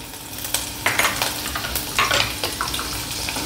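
Garlic hits hot oil in a kadhai over lowered flame, giving a steady close sizzle punctuated by scraping, clattering stirs from a spoon.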